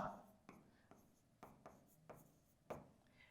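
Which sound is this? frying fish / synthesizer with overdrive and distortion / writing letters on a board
writing letters on a board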